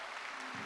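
Audience applause at a Baisakhi festival harmony gathering in Haridwar, a brief dense patter of many hands clapping that fills the moment at a steady level.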